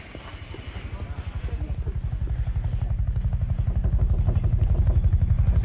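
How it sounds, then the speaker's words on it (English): A helicopter's rapid rotor thumping throbs steadily and grows louder as it approaches, a dense pulsing chop that fills the whole stretch. "Jeanette, our life flight helicopters can take a couple of isolates when they get back, but after that, I don't know."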